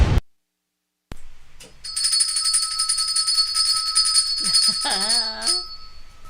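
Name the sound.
bell ringing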